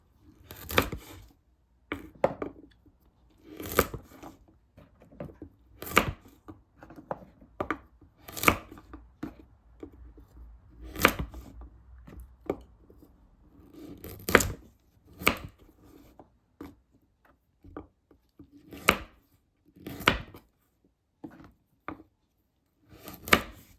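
Knife chopping through peeled taro stems on a board, a steady run of sharp, crisp cuts coming in irregular bursts with short pauses, close and fairly loud with no talking.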